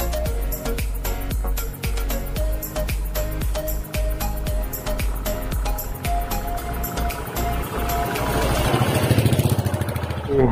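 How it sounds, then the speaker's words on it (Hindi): A motorcycle engine runs with a rapid, regular chugging pulse while the bike sits stuck on an off-road jungle trail near a waterfall, with the revs rising at the end. "बाइक फंस गया है।"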